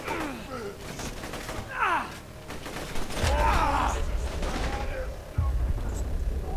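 Fully automatic gunfire in the video game Borderlands 2, bursts of rapid shots mixed with explosive thuds and game effects, with players groaning and talking over the action.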